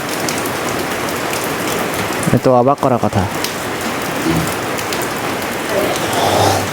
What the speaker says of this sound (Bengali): আর আজকে হঠাৎ বৃষ্টি